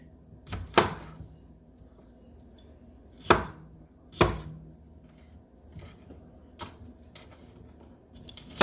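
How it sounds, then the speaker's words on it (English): Big knife chopping bell peppers and onion on a cutting board, a handful of sharp, spaced knocks with quieter taps between, close and alone. "cut these up, the peppers and the onion. And I have a very big knife."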